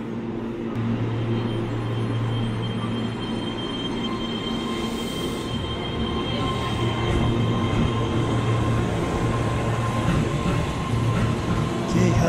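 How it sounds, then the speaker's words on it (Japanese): Keihan 13000-series electric commuter train departing Kyobashi station on the Keihan Main Line, a steady loud rumble of wheels and rising motor whine with high squeals, carrying on throughout at close range. "電車最新車両1万3000系の電車が京橋駅を出発していきました。"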